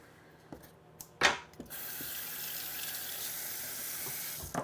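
Kitchen tap water running steadily over fresh thin zucchini after a few clicks and knocks, a continuous rinsing hiss at moderate level.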